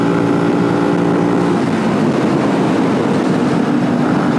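A Benelli TNT 125 motorcycle leans through a small bend, its engine a loud, steady drone blended with heavy wind rush, the pitch sagging slightly partway through.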